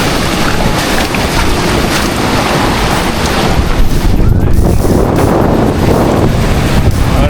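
Sea waves wash in and splash along a beach shore beside a boat on Neil Island in the Andaman Islands, a loud continuous surge with heavy wind buffeting the microphone throughout.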